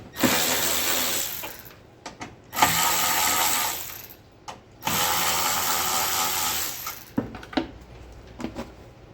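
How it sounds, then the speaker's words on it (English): A ratchet wrench loosens three 10mm bolts on a 2009–2017 Chevy Traverse during a water pump replacement, with long bursts of fast clicking separated by pauses and a few loose metallic taps near the end, close and clear. "We're going to take off these three 10mm bolts."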